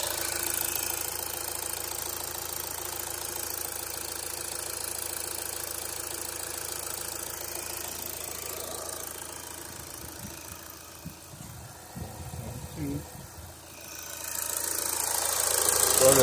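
Volkswagen Jetta 2.0 TDI diesel engine idling, a steady low rattling clatter throughout, with some knocking thumps near the end as the sound swells.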